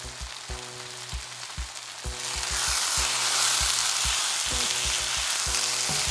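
Garlic and coriander powder frying in a pan for dhaba-style chicken: a soft sizzle rises to a louder, steady hiss while a spoon taps and scrapes in short rhythmic bursts, with no one speaking.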